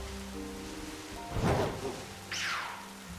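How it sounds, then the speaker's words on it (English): Rain falling during a battle in Pokemon Scarlet, a soft steady hiss of game weather that swells in a brief whooshing surge midway and again near the end, mixed with quiet game music. "especially since it's raining"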